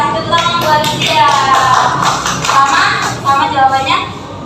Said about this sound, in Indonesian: terima kasih tepuk tangan buat dia.